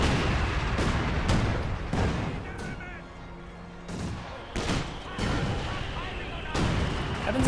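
Artillery and mortar fire in the strategy game Company of Heroes 2, a dense series of sharp booming impacts every second or so, with a voice talking over the barrage.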